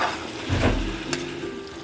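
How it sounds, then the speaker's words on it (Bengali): Taro pieces seasoned with turmeric crackle and sizzle in oil in a pan, a brief, fairly loud burst of frying with a faint scrape near the middle and no talk. "আর এটা ভাজা হচ্ছে"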